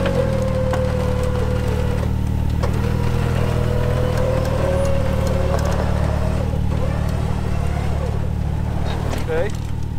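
A steady, loud car engine idles with only the lightest touch of gas, a constant low drone with a faint higher whine over it, while people talk throughout.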